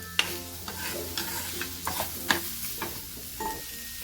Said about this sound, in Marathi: आपण हा कांदा घालू छान परतू ह्याला